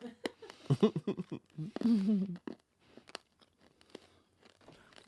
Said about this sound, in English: I put a mint in my mouth. Let me chew it up real quick.